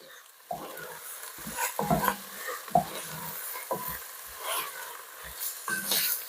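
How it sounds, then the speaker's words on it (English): Garlic, about a teaspoon, cooks in a pan with onions, giving a faint crackling sizzle under scattered scrapes and stirring knocks from a utensil, close by and without talk. "I've got just about a teaspoon of garlic going in. And I'm going to cook that just for a couple of minutes."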